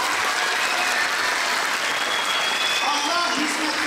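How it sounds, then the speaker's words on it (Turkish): Steady, dense applause from an audience at a closing program for summer Quran courses in Batman, Turkey, continuing evenly for several seconds at a moderate distance. "Ben huzurlarınızda fedakar ve cefakar Kur'an kursu öğreticilerimize de kocaman bir alkış istiyorum."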